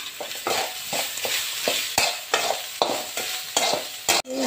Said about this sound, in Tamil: இதை நல்லா இந்த மசாலா இந்த வெங்காயத்தோட நல்லா வதங்கணும்